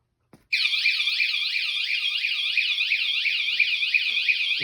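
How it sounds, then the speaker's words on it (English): A WSDCAM anti-theft bike alarm rated at 113 dB blares inside a garage, a loud piercing warbling siren that starts abruptly after a brief click and keeps cycling in rapid sweeps, close and alone. "If anybody taps or jiggles the bike, it gives them a warning."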